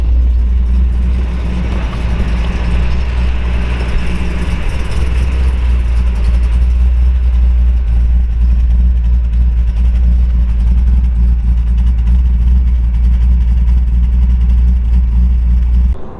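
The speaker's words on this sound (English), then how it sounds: "I'm going to get out and let you hear it run here." A 1969 Ford Mustang 428 Super Cobra Jet Drag Pack V8 idles alone in a loud, steady, deep rumble, close by, holding an even lope for about sixteen seconds before cutting off at the very end.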